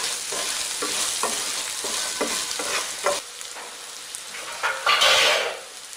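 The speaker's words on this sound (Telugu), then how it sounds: "ఇప్పుడు బాగా కలిసేలా వేసుకుంటే" Bitter gourd fry (kakarakaya vepudu) being stirred in a pan, a bright sizzle with a series of quick spatula scrapes, then quieter with a final louder hiss of frying.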